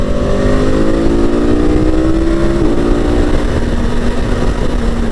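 A 2021 KTM Super Adventure motorcycle engine roars loud and close, its pitch sliding slowly as it revs, with a rough, crackling exhaust texture and exhaust pops throughout.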